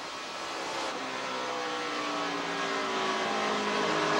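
A stock race car engine roars steadily during a 2008 ARCA race at Rockingham, a dense, continuous drone that swells slightly louder toward the end, with no talking over it.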